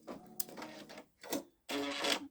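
A Babylock Solaris embroidery machine sews out a design in short bursts, close rhythmic mechanical chattering that stops and restarts, with quiet gaps between runs.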